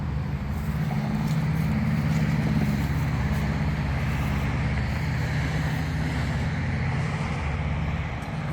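A 1963 Plymouth Valiant Signet 200 rolls down Grand Avenue in West Duluth, Minnesota, giving a steady low engine and road rumble with wind noise that holds at one level throughout.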